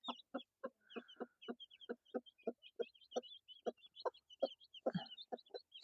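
A mother hen clucks steadily close by, a run of short rhythmic clucks beside her day-old hatched chicks, with faint high peeping from the chicks above.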